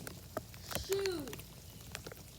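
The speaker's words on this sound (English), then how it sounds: "There's so much raindrops." Raindrops fall outdoors beside a pool, a soft, scattered patter of separate drops, with one brief gliding voice-like tone partway through.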